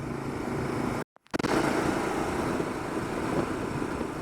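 Motorcycle riding along a village road off a national highway, a steady loud engine and wind roar that cuts out briefly before returning at full strength.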